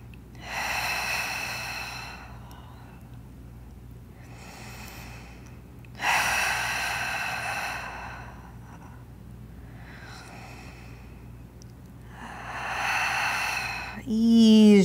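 Someone holding a lunge stretch takes slow, deep breaths: four long, loud inhales and exhales spaced a few seconds apart, close to the ear, with a brief voiced sound at the very end.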